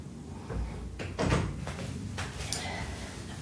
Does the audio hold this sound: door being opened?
yes